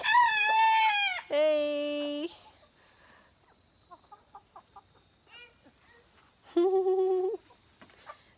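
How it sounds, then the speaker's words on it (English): Chickens kept outdoors at a family home give loud, drawn-out calls in bursts, with quieter clucks and scattered faint sounds between them. A voice speaks briefly. "We got a lot of chickens."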